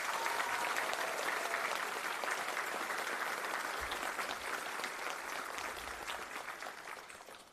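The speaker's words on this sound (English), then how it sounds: "Please join me in giving these individuals a well-deserved round of applause." An audience at a city council meeting applauds, a sustained dense round of clapping from many people that stays fairly even and tapers slightly at the close.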